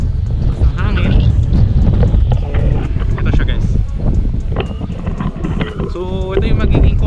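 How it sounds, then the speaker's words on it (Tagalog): Strong wind buffeting an outdoor microphone beside a concrete road in a hillside gated community, a loud continuous rumbling roar throughout, with a voice speaking over it. "Napakahangin lang po."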